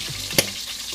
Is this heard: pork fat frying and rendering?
yes